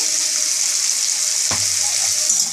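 Chicken for a home-style stew sizzles steadily in a pan. Midway through, a sudden hiss and bubbling rise as water is poured in, then the frying carries on close up with no voices.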